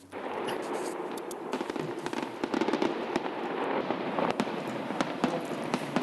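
Fireworks over Tivoli Gardens in Copenhagen during the celebration of King Frederik X taking the throne: a steady crackle of bursts and sharp pops from some distance, with no voices.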